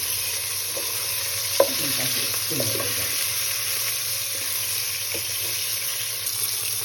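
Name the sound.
fish pieces frying in a pan (katla fish)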